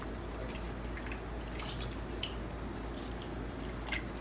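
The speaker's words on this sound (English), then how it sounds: "We're also gonna add a little bit of water." Water trickles and drips as a small amount is poured into a roasting pan with chicken, a soft, close liquid spatter over a steady low background hum.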